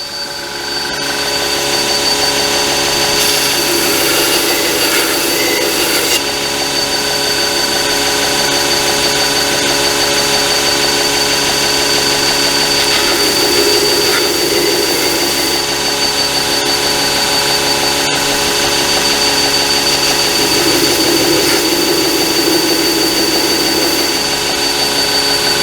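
A Reeder grinder with a sharpening attachment grinds a ding out of metal, a loud, steady, continuous whir and rasp lasting throughout with slight swells in grinding intensity and no talk.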